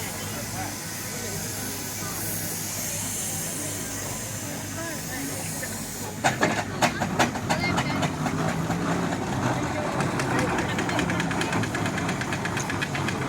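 A steady engine hum and hiss gives way to a loud, rhythmic chuffing and knocking as a heavy Marshall steam traction engine draws close at the Isle of Wight Steam Fair.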